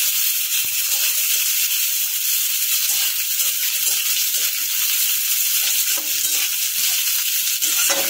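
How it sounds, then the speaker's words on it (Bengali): Chopped onion frying in hot oil with whole spices in a pan, a steady loud sizzle and hiss throughout, close up, with faint stirring scrapes underneath and no voices. "একটা পেঁয়াজ, কুচিয়ে নেওয়া পেঁয়াজ এর মধ্যে দিয়ে দিলাম। পেঁয়াজটাকে হালকা করে ভেজে নেব।"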